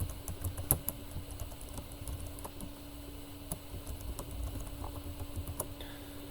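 A computer keyboard clicks faintly with sparse, irregular keystrokes under a steady low room hum, the taps quiet and scattered rather than fast continuous typing.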